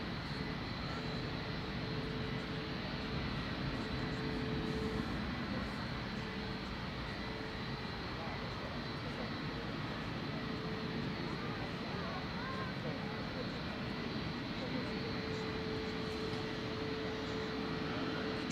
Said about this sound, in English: Just lining up to depart ahead of the 757s. Ryanair Max 8200 heading over to Rome with flight 3206.